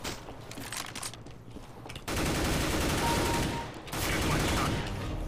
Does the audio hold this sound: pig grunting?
no